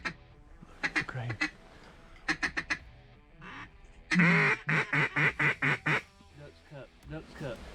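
Ducks quacking during a duck hunt in Arkansas, with bursts of repeated quacks, a loud close run of calls mid-clip, mixed with hunters talking.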